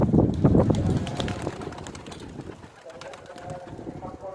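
Pigeons coo close by in soft, repeated throaty calls during a pigeon-flying session, mixed with rustling, while people talk over them.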